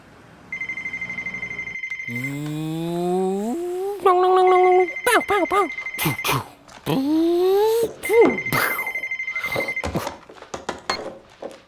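A telephone rings in a Hindi-dubbed Hollywood disaster movie, with several bursts of steady electronic ringing mixed among other shifting tonal effects and soundtrack sounds.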